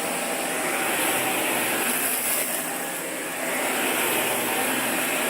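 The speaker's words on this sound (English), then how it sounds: "we'll just vacuum over that up again" A Eureka ReadyForce vacuum cleaner runs steadily on carpet, giving a loud, continuous motor whine with a slight dip in level partway through and no talking.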